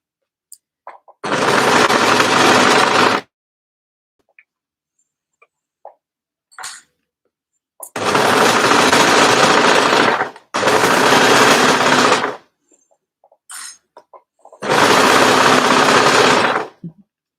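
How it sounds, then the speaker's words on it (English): An overlocker runs in four separate bursts of steady, loud mechanical whirring as it serges the edge of a scrappy piece of fabric for an edge-to-edge cardigan, with short quiet pauses between runs. "I do love how you can put quite a scrappy piece of fabric under the overlocker, and it comes through looking all beautiful and neat and tidy"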